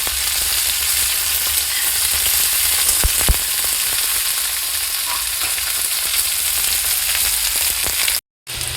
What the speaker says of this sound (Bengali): তাহলে আমি এবার উচ্ছেগুলোকে খুব ভালোভাবে ভেজে নেব